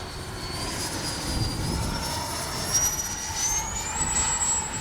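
A Freewing 80mm F-22 RC jet flies overhead with a steady ducted-fan whine that rises and shifts in pitch, accompanied by continuous wind noise.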